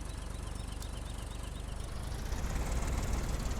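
A farm tractor engine idles in a farming video game, a low, steady rumble with a faint rhythmic throb that swells slightly louder toward the end.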